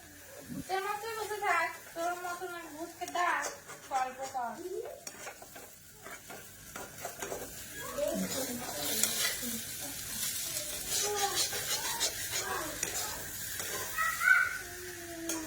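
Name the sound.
potatoes being fried for jhuri bhaja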